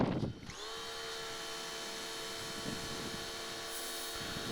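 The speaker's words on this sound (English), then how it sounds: "I just want to let you listen to this pressure washer." An Amazon-bought pressure washer runs steadily with a continuous motor whine and tonal hum, close and even throughout, with no talking.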